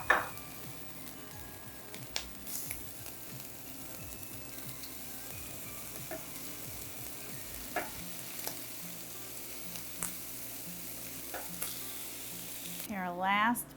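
Beef bulgogi frying in a skillet, with a quiet, steady sizzle and scattered clicks of a utensil against the pan, ending in a brief louder scrape.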